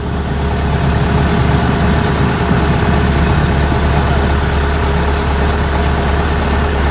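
The engine of a Kubota DC105X combine harvester runs continuously, driving back and forth, a loud, steady low rumble with constant vibration and no pauses.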